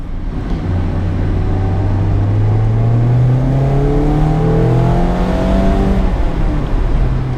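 A non-turbo Mazda MX-5 Miata ND2 Club four-cylinder engine revs up in a steady climb, its pitch rising and holding as the car pulls hard, loud and close with no one speaking.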